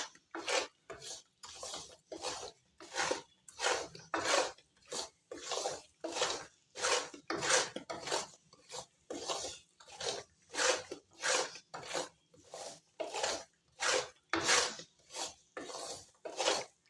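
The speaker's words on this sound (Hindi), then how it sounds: "इसमें चम्मच सही चल रहा है।" A spoon stirs and scrapes thick mung dal in a wok in a steady, close rhythm of about one rasping stroke per half second, with no talking throughout.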